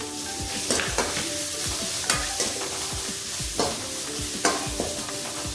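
Gooseberries and curry leaves fry and crackle steadily in a pan on medium heat, with a spoon stirring and scraping at intervals over the constant sizzle.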